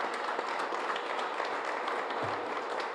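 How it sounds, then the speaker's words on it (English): A crowd at an indoor portrait unveiling ceremony claps steadily for a few seconds, a dense, even patter of many hands with no voices on top. "Let's give Career Pathways a round of applause"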